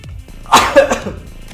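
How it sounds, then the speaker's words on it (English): A person coughs in a short, sharp burst of two or three hacks, loud and close, with faint room background before and after. "Probably not when I'm coughing like that."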